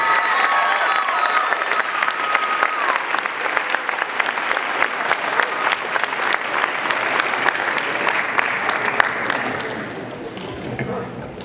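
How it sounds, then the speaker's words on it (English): A large crowd at a SkillsUSA Arizona state opening ceremony applauds itself, with sustained, loud, even clapping and a few cheers throughout that tapers off near the close. "Give yourself a round of applause"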